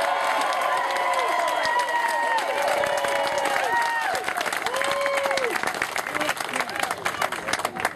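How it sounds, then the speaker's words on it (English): A political rally crowd applauds the Republican candidate E.W. Jackson in Charlottesville, with sustained dense clapping and some cheering and whistles, filling the whole stretch at steady loudness. "Let's have a round of applause for EW Jackson."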